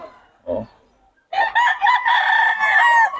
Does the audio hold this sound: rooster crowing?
yes